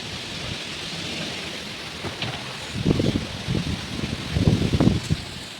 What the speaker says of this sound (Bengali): এই দেখো এবার হালকা হালকা বৃষ্টি নামছে।